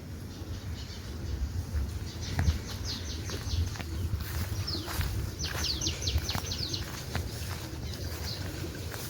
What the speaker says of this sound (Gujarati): તો અહીંયા કાબર આવી ગઈ છે